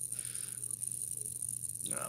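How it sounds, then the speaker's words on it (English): Crickets chirp steadily in the background, a constant high-pitched trill lasting throughout, faint but continuous. "There is crickets in the background."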